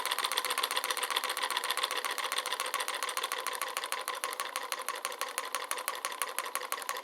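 Piston-powered magnetic pulse motor running with coils switched by FETs, giving a fast, even, rapid clatter of pulses that stays steady and close throughout, with no talking.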